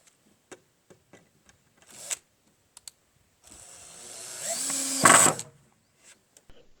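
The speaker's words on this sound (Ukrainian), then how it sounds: "Кріпимо дошку зверху по шнурку саморізами по металу." Self-tapping metal screws driven into a wooden fence board with a power driver, scattered clicks and taps leading into a short whirring burst of screwing that rises and ends with a sharp squeal, then a few more light clicks.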